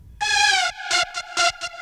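Two layered synth presets, Toxic Biohazard and Gargoyles, play together in FL Studio: one long bright buzzy note followed by a rhythmic run of short, bright synth stabs, close and loud with no talking.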